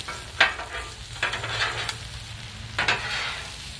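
Spinach sizzling on a Blackstone flat-top griddle while being pushed and tossed around, a continuous close hiss broken by a few scraping spatula strokes, no voices.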